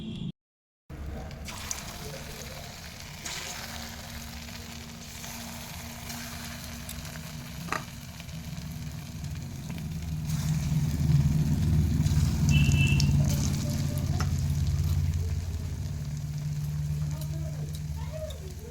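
Sweet dough balls made from leftover sweets frying in hot oil, a low steady sizzle that thickens and grows louder midway, with faint kitchen handling noises.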